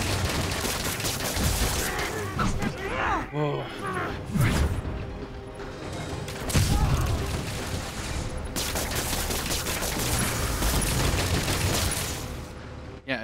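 Gunfire from a Spider-Man PS4 video game fight, a dense fusillade of shots and crashes running through the whole scene, with a player's voice briefly reacting over it.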